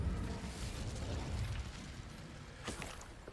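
A Confringo blasting spell goes off in Hogwarts Legacy: a low, rumbling burst of magical combat noise, then a sharper crackling blast near the end, all fairly faint.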